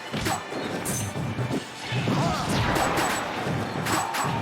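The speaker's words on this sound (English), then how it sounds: "just call him out with the up smash" Meta Knight lands an up smash in a Super Smash Bros. Brawl tournament match between two Meta Knight players, with a sharp crashing hit amid game sound effects, crowd noise and commentary.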